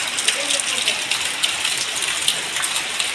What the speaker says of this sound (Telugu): బయట చూస్తే పెద్ద వర్షం పడుతుంది